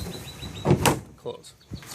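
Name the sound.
Suncast plastic shed doors closing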